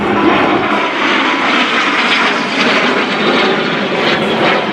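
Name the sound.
F-18 fighter jet engine during airshow turn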